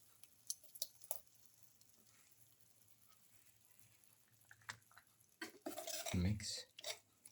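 A spoon stirs yogurt in a bowl for a garlic, tomato and okra raita, giving scattered light clinks and scrapes that turn busier and louder toward the end.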